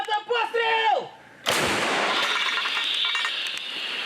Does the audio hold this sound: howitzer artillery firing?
yes